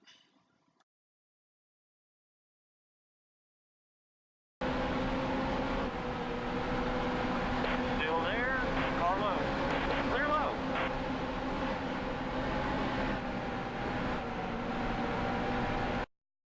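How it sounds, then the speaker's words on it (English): After a near-silent opening, a NASCAR race car engine in the video game NASCAR Heat 2 roars steadily at high revs with rising and falling whines as gears shift, loud and continuous. "Listen to the engine for just a moment."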